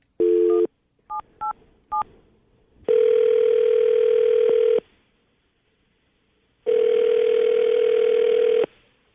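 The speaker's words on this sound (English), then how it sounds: "I'm going to call her right now, get her on the phone" A telephone call is placed: a brief tone, then a few quick dialing beeps, followed by two long, loud ringing tones separated by silence. The tones sound alone with no voices.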